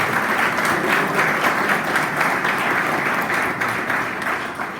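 A church congregation applauds together, a thick, even roar of many hands clapping at close range for the whole stretch, with no talk over it.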